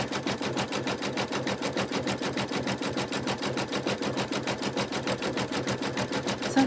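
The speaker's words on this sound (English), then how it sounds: "Halfway around, doing our outside stitch." An embroidery machine sews the outside stitch around a coaster, a fast, even, rapid-fire needle clatter that runs steadily and close throughout.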